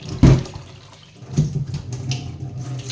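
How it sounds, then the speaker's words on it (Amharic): Water poured off washed rice in a bowl while preparing biryani, heard as two brief splashy pours followed by a softer trickle, close by. "ከዛ ውሃውን እንደፈዋለን"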